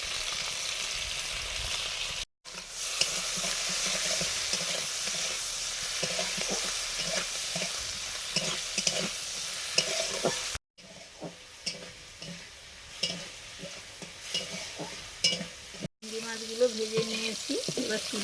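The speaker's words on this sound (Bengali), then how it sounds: "কড়াতে তেল দিয়ে দিলাম সর্ষের তেল চিংড়ি মাছগুলো ভেজে নেবো হলুদ দিয়ে দিচ্ছি" Prawns frying with turmeric in mustard oil in a wok, a continuous close sizzle broken by brief gaps, with stirring scrapes and faint background voices.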